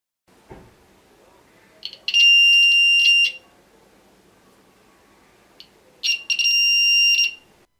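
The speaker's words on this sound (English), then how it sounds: "when I tilt the board, you can hear the buzzer go off at around 90 degrees" A piezo buzzer on an Arduino Nano tilt sensor circuit sounds two loud, shrill, steady tones of about a second each, triggered as the board tilts, with faint handling clicks between them.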